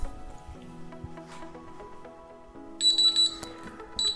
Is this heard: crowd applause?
no